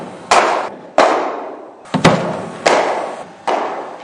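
A cricket bat strikes fast deliveries of about 85 mph, giving six crisp, loud wooden cracks in quick succession, each with a short fading ring.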